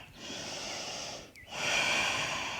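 A forceful breath pushed out during a power yoga flow, a broad airy rush of exhale, a brief dip, then a second stronger, sustained exhale, close and alone.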